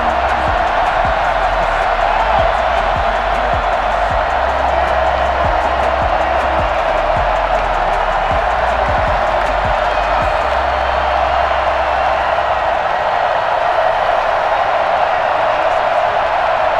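A sold-out stadium crowd in the video game Madden NFL 21 roars and cheers steadily at a Seahawks vs Patriots game. The loud, dense wash of noise runs throughout, with faint claps and clicks scattered in the first half.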